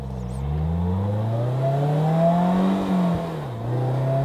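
A 2022 Polaris Slingshot SLR engine pulls away, a close, loud rising growl that climbs in pitch through the gears, dips briefly between shifts, then settles into a steady drone.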